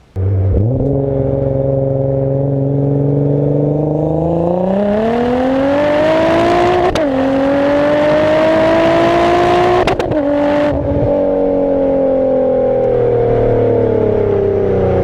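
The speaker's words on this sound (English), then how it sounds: "Got an exhaust sound there as well." A car exhaust rumbles loud and close as the engine revs, holding a steady drone that climbs slowly in pitch with short blips and drops between rises, then settles lower near the end.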